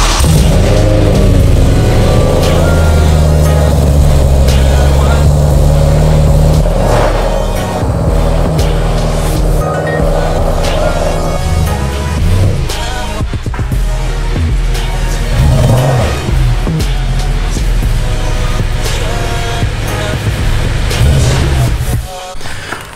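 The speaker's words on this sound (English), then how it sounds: "let's go ahead and flip the car around and get started." BMW M3 engine running loud and close as the car is maneuvered around, with a deep, steady rumble and some rising revs over about twenty seconds.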